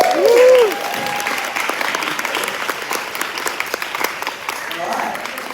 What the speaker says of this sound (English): Please get a round of applause.